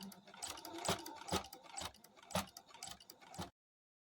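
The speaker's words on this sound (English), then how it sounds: "So we're going to take a couple stitches and then we're going to back stitch." A sewing machine stitches a quilt in quick bursts of rhythmic ticking needle strokes, pausing briefly as it reverses into back stitches, close and fairly quiet before stopping abruptly.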